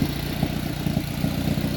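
A turbocharged Mazda 3 engine idles steadily with a low, even rumble and faint rhythmic pulsing, close and continuous with no voices.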